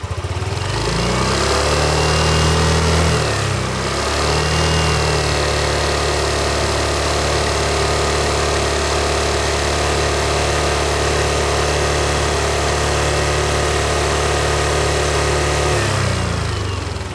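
Scooter with its stock exhaust idling steadily up close, a continuous low engine drone with a brief dip in revs partway through and another near the end; no voices.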